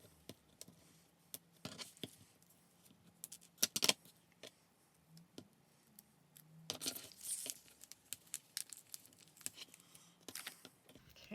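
Double-sided tape is peeled and torn off for a sheet protector organizer in sharp, brief rips and crinkles scattered among quiet pauses, with soft handling rustles between them.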